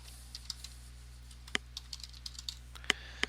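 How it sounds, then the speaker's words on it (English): Someone types on a computer keyboard, with sparse, light key clicks in an irregular rhythm and a few sharper taps, close but faint over a steady low electrical hum. "I'm going to simply type in the service name."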